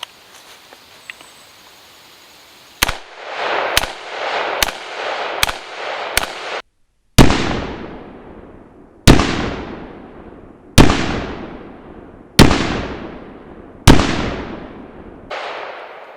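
5.56 rifle rounds fired at homemade body armor, about a dozen sharp, loud reports: a quick string of five shots, then slower evenly spaced shots each followed by a ringing echo decay, with no talking.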